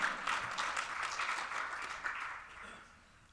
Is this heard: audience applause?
yes